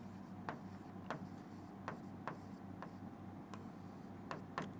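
Someone writes out a maths equation by hand during a quiet lesson, producing a series of short, faint scratchy strokes at an irregular pace, with no talking.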